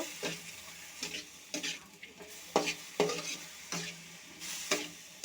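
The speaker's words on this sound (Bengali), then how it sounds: "লবণ দিয়ে একটু ভাজা ভাজা করে নেব" Coriander leaves and salt fry in a pan with soft sizzling under regular, distinct scraping strokes of a spatula, about one every second, close and fairly quiet.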